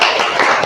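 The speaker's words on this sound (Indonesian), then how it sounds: "silakan beri tepuk tangan untuk Marcel" A short burst of clapping for a student named Marcel in a classroom lesson, a few hands striking in quick, uneven claps, close and fairly loud.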